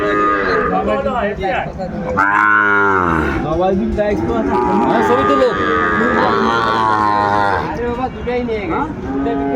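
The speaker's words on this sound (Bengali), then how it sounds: "শাহিওয়ালের ষাঁড় বাচ্চা আমরা দেখছিলাম" Sahiwal bull calves moo loudly and repeatedly up close at a livestock market, with long, drawn-out bellowing calls one after another.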